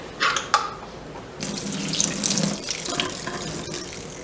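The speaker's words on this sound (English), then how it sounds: "Put a little bit of water in it, rinse it a little bit." Water running from a kitchen tap into an opened can of kidney beans to rinse them, a close, steady splashing gush after a couple of brief clinks, continuing alone without talk.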